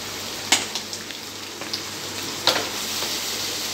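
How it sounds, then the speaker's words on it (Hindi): Tomato pieces sizzle steadily in a hot pan over high flame for chilli paneer, with a constant frying hiss broken by a few sharp spatula clicks and scrapes as they are stirred. "हम ये टमाटर के पीसेस डाल देंगे और इसे अच्छे से हिला लेंगे तेज़ गैस पर ही"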